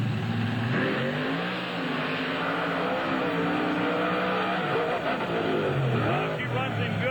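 Pulling truck engine at a 1996 truck and tractor pull in Springfield, Missouri, roaring loud and close, with rising and falling revs as the throttle swings repeatedly near the finish line.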